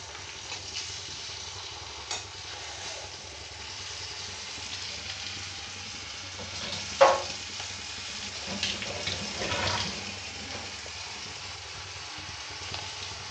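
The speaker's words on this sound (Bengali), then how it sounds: "টমেটোটা তেলে ভেজে নিলে একদম নরম হয়ে গলে যায়" Chopped small tomatoes frying in oil for a light fish curry, a steady soft sizzle running throughout with occasional louder spatters and stirring clinks, no voices.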